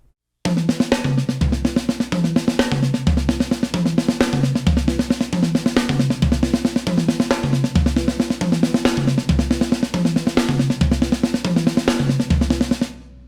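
Drum kit playing a paradiddle pattern with the right hand's single strokes moving around the kit, a steady dense stream of strokes with regular low tom or kick accents and cymbal wash, close and loud.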